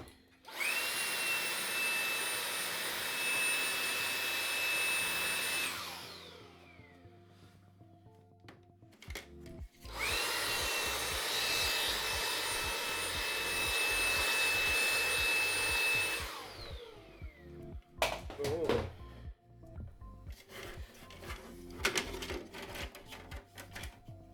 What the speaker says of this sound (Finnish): Sitten kannattaa tietenkin nuo tuulettimet imuroida. Siihen kannattaa tuota harjapäätä vähän käyttää.